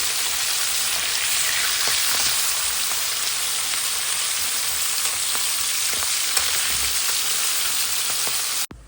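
Fish and onions frying in oil in a pan make a loud, steady, close sizzle with fine crackling throughout, ending in a brief clatter.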